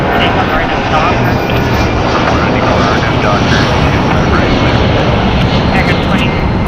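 A Korean Air Airbus A380 arriving from Seoul lands at LAX, its jet engines a loud continuous roar close by that holds steady throughout, with no pause in the broad rushing noise.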